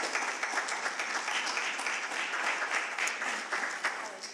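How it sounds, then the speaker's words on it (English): An audience at a democracy event applauds for Holly in a steady, dense round of clapping that holds loud and even throughout. "Round of applause for Holly."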